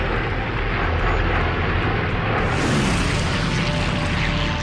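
A massive strike force of over 200 World War II planes fills the air near Guadalcanal with a dense, continuous engine drone, loud and unbroken, with a rougher surge midway.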